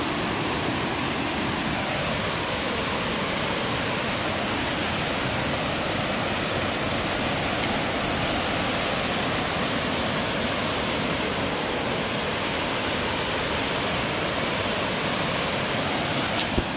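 Poestenkill creek running high and strong, a loud, steady rushing roar of churning water close by, unbroken and with no voices.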